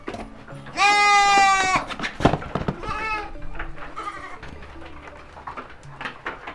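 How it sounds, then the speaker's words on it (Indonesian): A two-month-old local sheep gives a loud, close, drawn-out bleat, then shorter, softer bleats and rustling noises follow, with faint talk in the background. "Ini kak domba lokal ya, domba lokal."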